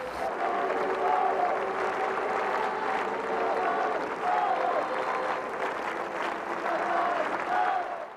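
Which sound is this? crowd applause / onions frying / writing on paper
crowd applause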